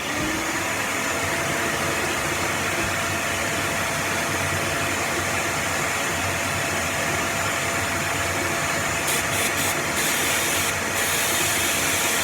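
A shop vacuum drones steadily and loud while a 1947 Ford street rod's plugs are cleaned, with a constant broadband hiss and whine running unbroken throughout.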